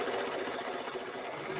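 Close, steady whirring of a quilting machine stitching the top row of a quilt, an even mechanical hum that runs unbroken for a brief moment without any talking.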